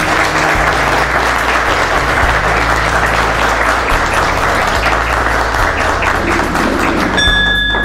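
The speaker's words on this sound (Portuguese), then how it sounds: "E o nosso presidente, as palmas mais acaloradas" Large audience at a Lions Club board installation ceremony applauding warmly, sustained loud clapping throughout with a low rumble underneath and a faint tone near the end.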